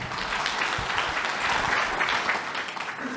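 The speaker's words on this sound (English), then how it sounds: "Can you please give him a round of applause?" An auditorium audience at a community event gives a continuous, even round of applause, a steady wash of many hands clapping that holds at one level throughout.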